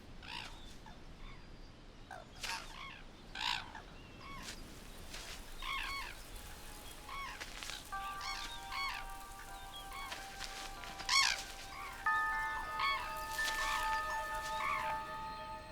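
A flock of cranes calls in a wetland, with overlapping honks and trills at mid distance. Sustained calls build toward the end over a steady outdoor background, with no speech.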